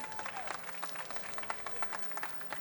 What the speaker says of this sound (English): let's give him a round of applause as he sits right here